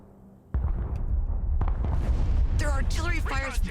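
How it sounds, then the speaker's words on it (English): Artillery volleys in the video game Broken Arrow: a heavy boom hits suddenly and keeps rumbling in loud, overlapping blasts, with a voice talking over the later part. "Their artillery fires volley after volley without repositioning"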